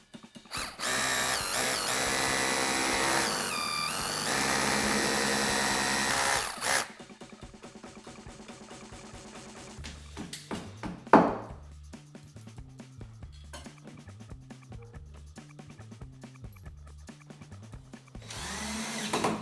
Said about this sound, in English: So now we can drill these two